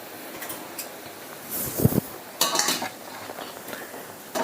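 Metal utensil scraping and clinking against a pot while a wheat mixture is stirred on the stove for kurvadya, in a few short bursts over a steady background hiss.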